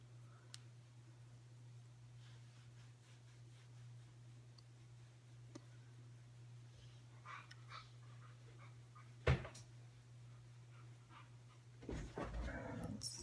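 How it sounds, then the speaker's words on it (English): Quiet room with a low steady hum, dogs panting softly in the background, occasional shuffling and a brief bump, then closer rustling movement near the end. "Excuse the dogs in the background there."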